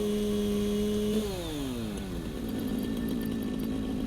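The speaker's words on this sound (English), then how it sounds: "I guess we need to bring out the chainsaw" A chainsaw in the video game Satisfactory revs steadily, its engine pitch sliding down as the motor drops from high revs to a lower, rough idle that drones on loud and close to the end.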